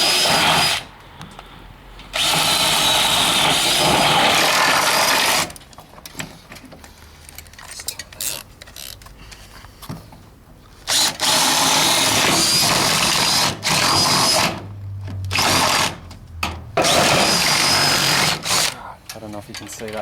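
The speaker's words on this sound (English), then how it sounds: "I've got a little 12mm spade bit, and I just drill these holes" A 12mm spade bit drilling holes at a slight upward angle for a pergola connection to a house, the drill whirring in several loud bursts with pauses between.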